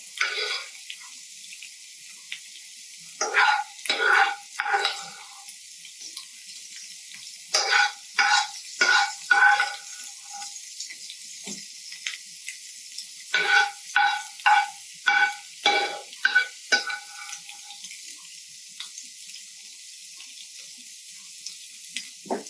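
Grilled onions marinated in blackberry jam sizzle and crackle in a pan on a cheeseburger griddle, in bursts of loud close spitting and hissing over a faint steady background hiss, with no talk.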